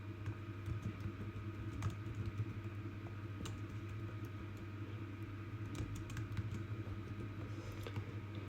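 Keys clatter on a computer keyboard as a supplier name is typed into point-of-sale software, a steady run of light clicks over a constant low hum of room or traffic rumble.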